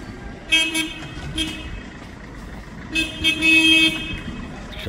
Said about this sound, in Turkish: Araba kornası nasıl reis iyi çıktı mı?